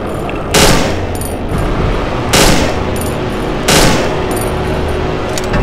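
A handgun fires in the video game Cry of Fear, three loud, close shots spaced about one and a half seconds apart over a steady background rumble.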